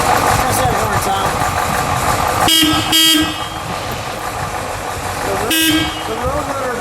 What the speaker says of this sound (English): let's beep the horn, since it has the beep beep horn